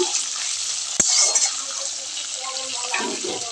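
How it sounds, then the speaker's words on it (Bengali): Chopped onions fry in a pan, a steady broadband sizzle with a sharp clack of a utensil near the start and light stirring scrapes, close and fairly loud throughout. "পেঁয়াজটা লাল করে ভেজে নিব"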